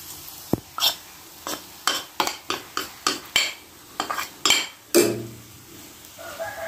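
Khoya is stirred into shahi seviyan in a pan. A spoon scrapes and knocks against the metal in a quick series of rhythmic strokes, with a soft sizzle underneath and no talking.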